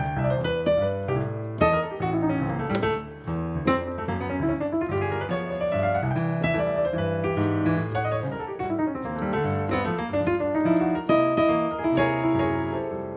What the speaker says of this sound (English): if you use multiple scales when you're improvising, it might sound something like this.